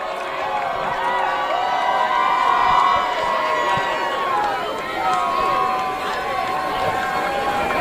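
A crowd at an Auburn basketball homecoming celebration, cheering and shouting steadily at close range for the whole span, with voices and whoops layered over a constant roar.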